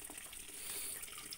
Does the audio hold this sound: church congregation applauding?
no